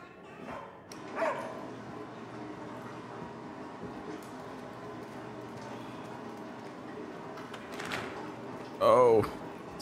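Dogs in the video game Somerville give a few scattered barks and yips, faint and fairly distant over a low background, with a sharper bark near the end and a person talking now and then.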